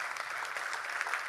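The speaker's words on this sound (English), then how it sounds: "Make some round of applause for Ryan." Audience applause for Ryan after he shares his story at a storytelling talk, a steady dense patter of many hands clapping at moderate volume throughout, with no voices over it.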